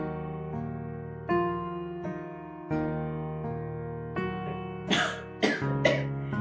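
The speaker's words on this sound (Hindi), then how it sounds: "पापा को खांसी हो रही है" An older man gives a short cluster of harsh, close coughs over soft background music, after a quieter stretch.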